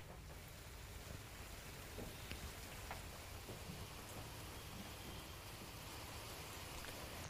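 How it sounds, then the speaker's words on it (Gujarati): Steady, dense monsoon rain pours down continuously in Dhoraji, Gujarat, a soft even hiss with occasional louder drops and no voices. "ધોરાજીમાં ધારે વરસાદ વરસી રહ્યો છે"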